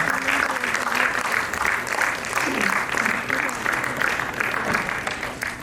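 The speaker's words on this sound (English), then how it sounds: "Give a round of applause for them." Steady audience applause fills a conference session hall, dense and continuous clapping throughout, with a voice talking faintly underneath.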